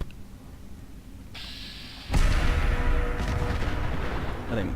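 An Annihilator Sentry Bot blowing up in Fallout 4, a sudden loud blast followed by a sustained roaring, rumbling explosion with crackling debris, close and alone.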